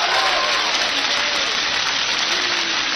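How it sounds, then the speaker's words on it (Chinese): Audience at a crosstalk comedy show clapping in a dense, steady wash of applause, loud and sustained from start to end with no gaps. "谢谢大家给我一个人的掌声"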